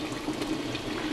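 Water pours and drains off cooked rice into a sink, a steady close liquid rush and trickle with no voices.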